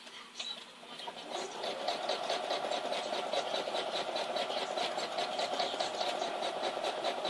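A sewing machine stitches a quilt, sewn quilt-as-you-go, with a fast, even mechanical chatter that runs steadily up close.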